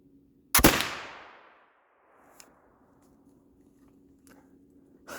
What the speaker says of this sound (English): I'm gonna shoot low. I'm not actually gonna aim at anything right now, sadly. I'm just going for velocity.